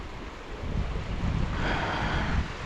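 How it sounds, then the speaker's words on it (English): A creek flows outdoors in a steady broadband wash, close and fairly loud, swelling slightly partway through with a rushing, wind-blown texture and no voices. "I love this creek. This is a beautiful creek."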